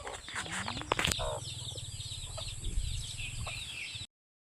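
Chickens cluck and a rooster calls in a farmyard, with a brief burst of wing flapping early on, close and fairly loud, with no talking.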